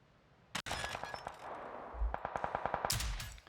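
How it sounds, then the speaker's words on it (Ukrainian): Sharp gunshots in PUBG's training mode crack in quick bursts, fairly faint, with rapid rhythmic shots clustered together and a few louder single pops, no talking. "З'являються мішені, і ви чуєте постріл."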